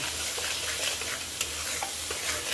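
Spices with turmeric, cumin, salt and tomato paste sautéing in a pan: a steady close sizzle and crackle under light, irregular stirring scrapes, with no voices.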